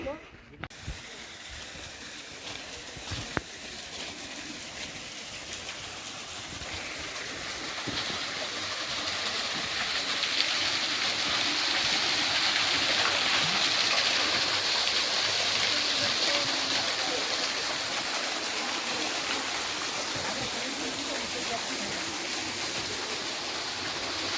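A creek called İsrafil Deresi flows steadily in an outdoor setting, a continuous broadband rush of water that swells louder midway and holds without pause, with no talk over it.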